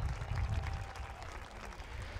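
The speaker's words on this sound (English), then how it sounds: "Let's give these young ladies a round of applause." Faint, distant applause from a crowd for a girls' cross-country team, a soft even wash of clapping that continues throughout.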